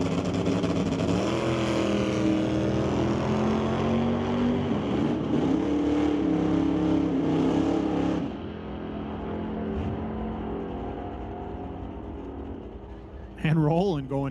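Two hot rods at a drag strip, a 1962 Chevy II and a 1955 Meteor, roar loudly and steadily with revving engine drone, then cut off abruptly and drop to a quieter rumble, with a brief burst near the end.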